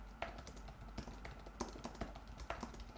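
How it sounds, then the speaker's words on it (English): Key presses on an Apple Magic Keyboard with Touch ID, soft clicky taps in an uneven typing rhythm, close up and quiet against a low background hum. "This is what the keyboard sounds like."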